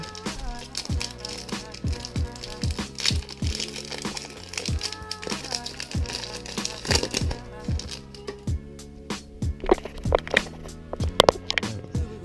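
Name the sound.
tearing open a Pokémon card booster pack wrapper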